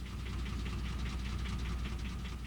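Diesel engine of a renovated BB locomotive, fitted with a new engine, running steadily with a low, dense throbbing rumble and rapid knocking pulses, loud and continuous without pause.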